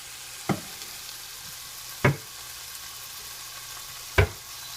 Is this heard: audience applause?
no